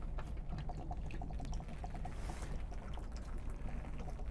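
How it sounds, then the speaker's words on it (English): Water draining out of an RV Atwood water heater, a steady close pouring and trickling stream with small dripping splashes throughout. "loosen and remove the plug and drain the hot water heater"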